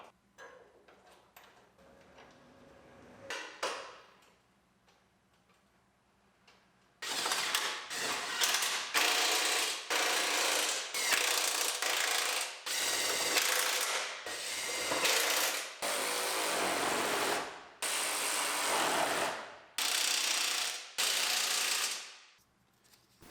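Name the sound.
bolts put back into used Silverado bumper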